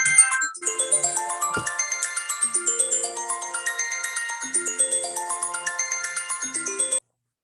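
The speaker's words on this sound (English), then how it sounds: "Of course, the phone is ringing." A telephone ringtone plays alone for about seven seconds, a bright repeating melodic chime pattern that stops abruptly.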